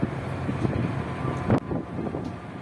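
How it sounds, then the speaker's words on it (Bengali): Strong wind buffets the microphone in a continuous low roar aboard a ship, with a brief louder gust partway through. "বাতাস দিচ্ছে দেখছো কেমন"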